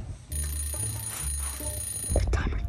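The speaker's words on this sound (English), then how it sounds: "The timer just went off." Timer alarm going off in a Target store during a game of hide and seek, a steady high electronic ring starting abruptly and sounding continuously, with rustling and movement noise toward the end.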